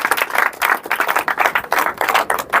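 A crowd claps together at a 75th Republic Day event in India, a dense run of repeated bursts in a steady rhythm at moderate loudness with no talk over it.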